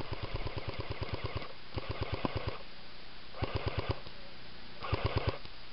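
Airsoft FAMAS firing in rapid automatic bursts, with four distinct strings of quick, evenly spaced shots separated by short pauses, heard close up in an outdoor game.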